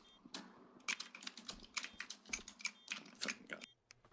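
Rapid bursts of clicky computer keyboard typing, close and crisp, with irregular clusters of keystrokes and brief pauses over a quiet room.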